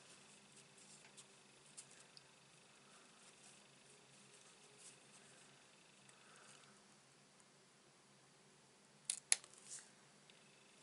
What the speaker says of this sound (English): Just going to give that a little snip and that snip.